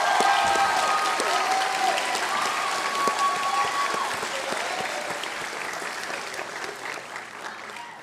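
Sustained audience applause for friends and family at a nursing graduation ceremony, a dense wash of many hands clapping that stays loud for the whole stretch and slowly eases off, with some tonal tones and voices mixed in beneath.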